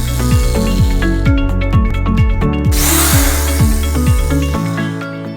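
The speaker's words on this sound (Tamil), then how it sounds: "ஸோ ட்ரில்லர் வச்சு நான் வந்து ஒரு ஹோல் போடுறேன்." Electric drill boring a hole into coconut husk for a DIY orchid pot, loud close motor whir with rhythmic pitch-shifting pulses and a brief gritty hiss burst midway before winding down.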